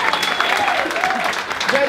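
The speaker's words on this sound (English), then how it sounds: "So big hand of applause for Jayden for making this the event it is." Audience applause at a Rotary charity performance event, a dense steady wash of clapping lasting the full two seconds at fairly loud level with no pauses.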